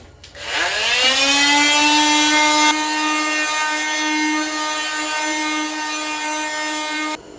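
A power sander spins up and runs with a loud, steady whine and rasping grind against wooden boards, then cuts off abruptly.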